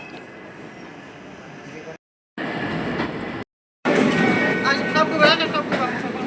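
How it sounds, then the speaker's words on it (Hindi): A train pulling out of a station at the Sonpur fair grounds, with a broad steady rumble and rail clatter that grows louder and busier toward the end, broken by two short gaps of silence. "अब सामने ट्रेन जा रही है वाशिंगपीट के लिए"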